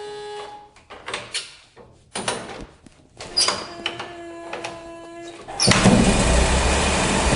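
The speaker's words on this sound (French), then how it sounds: "on allait devant la voiture sur la manivelle" An old car being started by hand crank: a few sharp clunks and turning strokes with pauses, then the engine catches and settles into a loud, steady running rumble close by.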